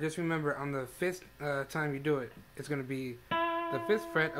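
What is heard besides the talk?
No everyday noises stand out.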